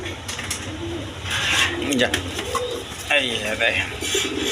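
Pigeons coo repeatedly in soft, throaty rolling calls, close by, over a background of muffled voices and ambient noise.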